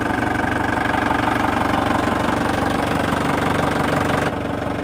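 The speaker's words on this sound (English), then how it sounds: "A diesel engine doesn't have spark, so it's just going to run on its own." A Mahindra tractor's diesel engine runs at a steady idle nearby, loud and even with a rough, knocking low rumble, and a slight drop in tone near the end.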